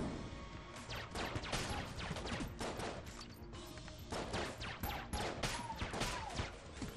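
Rapid laser gunshots in the video game Enter the Gungeon, with dense bursts of sharp zapping blasts and impacts firing almost nonstop, fairly faint overall, with no talk over them.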